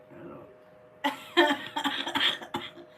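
A person coughing several times in quick succession, close and fairly loud, after a brief stretch of quiet background.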